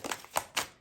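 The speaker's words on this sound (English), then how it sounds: "Let's give the cards a really good shuffle" Tarot cards being shuffled, giving quick papery riffles in three short bursts, close and fairly quiet with no talking.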